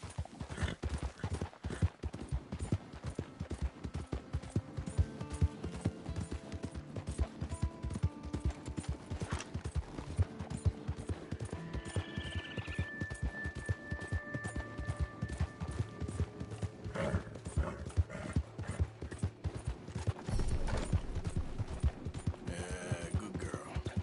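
Horse hooves gallop steadily in the video game Red Dead Redemption 2, a continuous rapid clip-clop rhythm at moderate level with faint tonal game sounds layered underneath.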